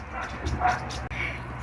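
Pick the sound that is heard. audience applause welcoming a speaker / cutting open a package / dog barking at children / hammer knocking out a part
dog barking at children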